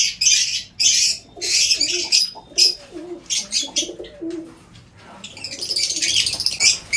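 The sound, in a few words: pigeons calling and squabbling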